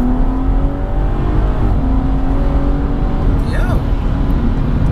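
A JB4-tuned 420 BHP BMW M240i engine runs loud and close, rising with a little throttle into a brief rev that sweeps up in pitch before settling back, with a rumbling exhaust throughout.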